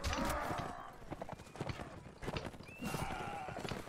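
Horse hooves clip-clop in the Mount & Blade Warband game, a brisk steady rhythm close by, with whinny-like tones and some voice mixed in.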